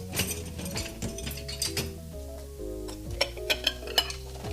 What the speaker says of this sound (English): yes, frying zucchini